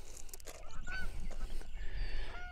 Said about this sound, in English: Some geese cruising by.